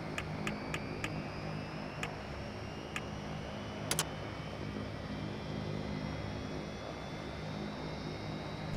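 Engine 4 of a simulated BAe RJ70 airliner spools up at the gate: a continuous broadband roar with a thin whine slowly rising in pitch, broken early on by a handful of sharp ticks.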